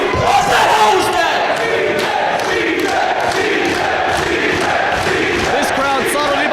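A wrestling crowd at a live show in a Dublin venue chants and cheers in unison, rhythmic rising calls sustained loudly throughout with no single voice standing out.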